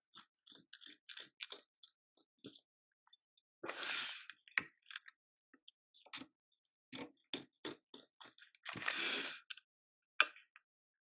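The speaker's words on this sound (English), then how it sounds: "I'm just going to use my applique scissors and cut it as usual" Close, quiet snips and clicks of appliqué scissors cutting fabric for an embroidered hat patch, irregular short bursts with a couple of longer rasping cuts, no talking.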